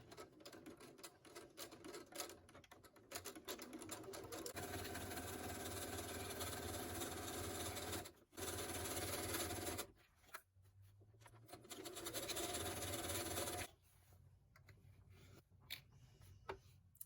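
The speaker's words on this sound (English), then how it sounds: "Going to back stitch." A sewing machine back stitches a reversible valance window topper in long whirring runs with brief pauses between them, quiet and close with no talk.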